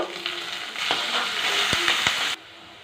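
Cumin, curry leaves, garlic and onions frying in hot oil, a steady loud sizzle with a few stirring clicks and scrapes, cutting off abruptly near the end.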